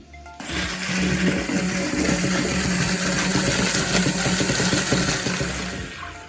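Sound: blender mixing sauce

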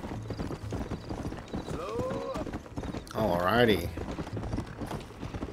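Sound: horse galloping in a video game

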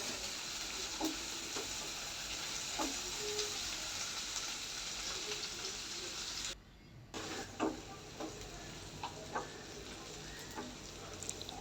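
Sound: chopped onion and garlic frying in a pan

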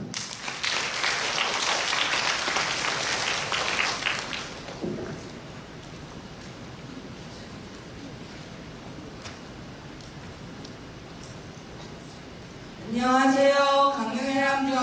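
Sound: audience applause welcoming a presenting team

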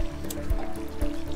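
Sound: pouring nematode solution in water over a plant

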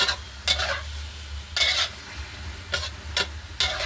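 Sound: stir-frying pork belly with cabbage and garlic

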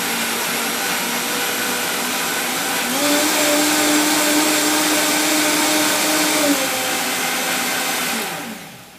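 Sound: Vitamix blender blending corn stock

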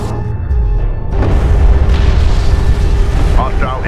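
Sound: hostile interceptor exploding in Homeworld Deserts of Kharak game

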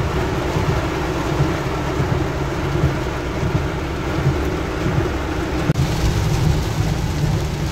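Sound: heavy rain with thunder in Bangkok street

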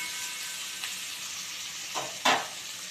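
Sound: potatoes frying in a pan

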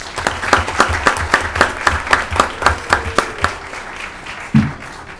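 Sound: applause

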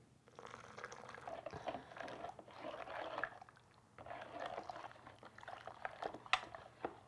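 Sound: salt being dissolved in hot water for a dye bath

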